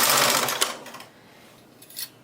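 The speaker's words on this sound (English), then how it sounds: "I am going to set the machine for plain knitting and on its very tightest tension and do a zigzag row." A knitting machine set for plain knitting at its tightest tension runs a zigzag row, giving a loud, close whirring rush of carriage noise that fades out, followed by a brief second swish.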